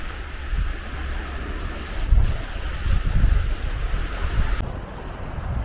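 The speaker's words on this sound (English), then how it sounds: "It's gone a bit cloudy and windy now" Wind gusts buffet the microphone at Freshwater Bay on the Isle of Wight, a rumbling low roar that swells and eases over a constant breezy hiss, with surf faintly present.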